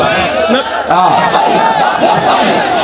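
A crowd chanting Labbaik slogans in unison at a religious speech, loud and close, with rising and falling massed voices.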